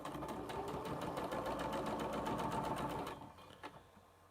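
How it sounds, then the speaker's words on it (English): A sewing machine stitches a quilt block with bias edges in a fast, steady mechanical whir of needle strikes, close up, then stops and leaves a few faint clicks. "hopefully your sewing machine won't eat it"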